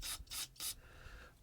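Three quick, close bursts of brake cleaner spray hiss onto a differential during rear axle seal work on an M1009 truck, then fade into a faint lingering hiss.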